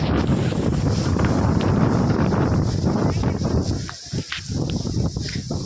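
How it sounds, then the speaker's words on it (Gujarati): Strong, gusty wind roars and buffets the microphone continuously on a farm in Jamnagar, briefly easing before surging again. "પવન અતિશય એટલે અતિશય છે"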